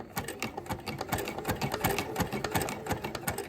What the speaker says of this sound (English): now we're just going to start wrapping the fabric and sewing it around